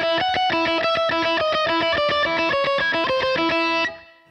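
Electric guitar plays a scale slowly with double picking, each note struck twice in an even rhythm with open strings ringing, loud and close, then cut off abruptly near the end.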